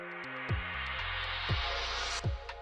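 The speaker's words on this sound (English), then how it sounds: "Have a riser effect that sounds something like this." A synth riser sweeps steadily upward for about two seconds, climbing over a drill and lofi beat's bass line and a few deep kick drum thumps.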